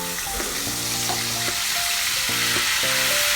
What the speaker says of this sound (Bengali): এবার এটা ভালো করে কষিয়ে নিচ্ছি